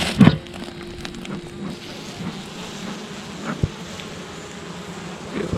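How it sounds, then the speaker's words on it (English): Honey bees buzz around a colony being cut out, a steady diffuse insect hum close by with a brief louder bump early and a sharp knock midway. "especially looking at the number of bees going in and out of this colony here"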